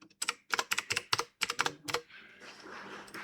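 Quick bursts of typing on a computer keyboard while entering a date into an Excel spreadsheet, several clustered keystroke runs close and clear, then trailing into faint background noise.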